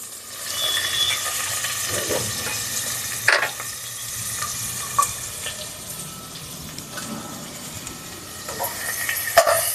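Onions and curry leaves fry in about 20 ml of oil for mutton dalcha, giving a steady close sizzle broken by occasional spatula scrapes and knocks.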